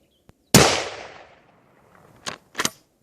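A gun fired outdoors while winter camping from a truck: one sharp, loud shot that rings out and decays over about a second, followed by two fainter short bangs.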